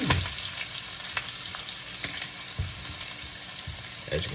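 Food frying in a hot pan in a home kitchen, a continuous close sizzle with occasional clicks and light knocks, no speech.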